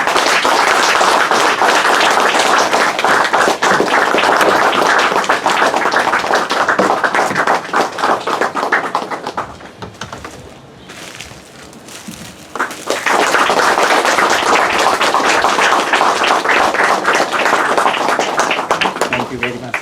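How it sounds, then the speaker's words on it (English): An audience claps at a felicitation during a legal lecture event. Dense, loud applause fills the room, dips briefly midway, then swells back to full strength. "Huge claps, please."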